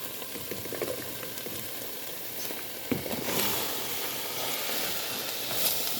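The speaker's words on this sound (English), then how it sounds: "So now I'm gonna put the cabbage in." Shredded cabbage dropped into a pan of sautéing tomato, onion and scallion, a steady sizzle with scattered clicks and scrapes of stirring, rising into a louder, fuller hiss partway through.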